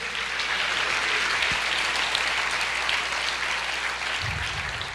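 A church congregation applauds in a steady, dense wash of clapping that holds evenly throughout, with a low hum beneath and a brief low thump near the end.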